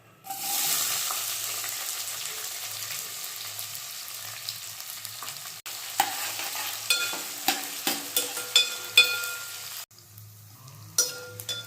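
Chopped onion hitting hot oil already seasoned with cumin, shahjeera, cardamom and curry leaves, a steady sizzle with sharp crackles and spatters toward the end, close by and without speech.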